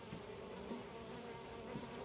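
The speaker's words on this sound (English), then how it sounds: "There's way more bees in here than used to be." Honey bees buzz steadily from an open backyard hive during an early spring inspection in Florida, a dense, continuous drone close by with no talking.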